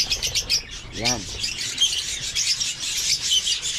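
Farm birds, turkeys among them, chirping and tweeting in a steady chorus close by, with a short flutter of wings and a brief spoken word partway through.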